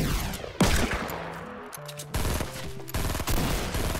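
Rapid gunfire in the video game Fortnite, bursts of repeated shots with sharp attacks separated by short gaps, loud and close with no talking over it.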